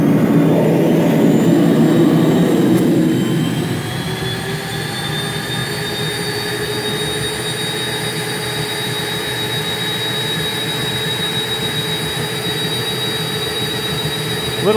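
A Rotovac Monsoon carpet extractor with ZX vac motors roars loudly and steadily, first with a heavy rushing of air, then settling to a constant high-pitched whine close by, with no voices.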